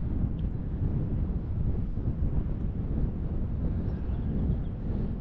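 Wind buffeting a microphone atop a coastal dune near the Gascony forest, a steady low roar with constant gusty rumble and no voices throughout.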